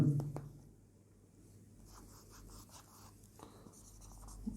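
Chalk or marker writing on a board during a Hindi grammar lesson, a soft scratchy scribbling that runs steadily through a quiet room with low background hum and no talk.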